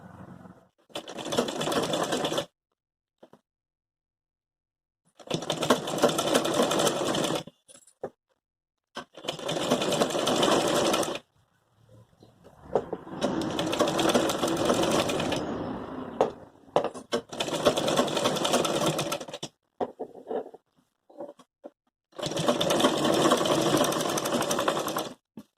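A sewing machine stitching the neckline of a party-wear gown made from an old saree, running in six or seven close, rapid bursts of a few seconds each, separated by quiet pauses.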